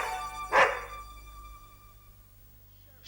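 Sherry, a pet dog, lets out one sharp, close bark that rings briefly before fading into quiet room tone, with another sound just starting at the very end.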